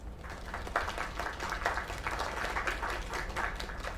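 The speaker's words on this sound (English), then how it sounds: "Another round of applause." Continuous applause from a crowd in the PC game Lake, a dense steady patter of clapping with a faint murmur beneath it.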